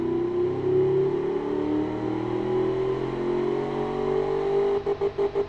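Pushrod V8 engine in the racing game Automation, sized like a Ford modular V8, droning at a held, gradually rising rev with a steady harmonic hum, then pulsing in short rhythmic bursts at the end.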